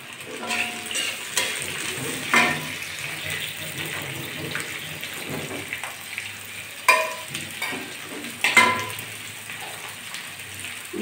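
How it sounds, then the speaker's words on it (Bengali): Chopped onions with ginger fry in oil in a pan, a steady close sizzle broken by several sharp scraping stirs, with no one talking. "আমি পেঁয়াজটা আগে একটু ভেজে নিচ্ছি"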